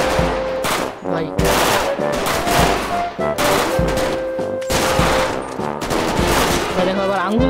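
Rapid automatic gunfire from the Free Fire battle royale game, loud and close, with dense bursts rattling almost continuously and only brief gaps between volleys.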